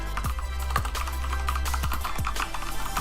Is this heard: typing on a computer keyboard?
yes